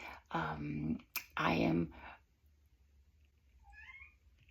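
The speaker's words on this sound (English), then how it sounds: "it's my cat." Two drawn-out meows from a nearby cat, loud and clear, followed by quiet with a couple of faint chirps in the background.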